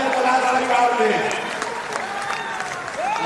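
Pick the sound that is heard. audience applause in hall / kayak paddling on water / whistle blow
audience applause in hall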